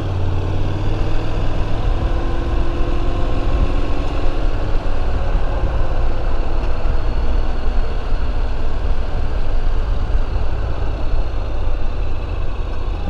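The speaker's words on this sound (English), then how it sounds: "I'm going to try riding a little bit here with my visor up to see if the wind noise is reduced on here with this windshield extension." Wind noise while riding a 2021 Honda NC750X motorcycle with a Puig clip-on windscreen extension and the helmet visor up, a steady loud roaring rush mixed with low engine drone, constant throughout with no speech.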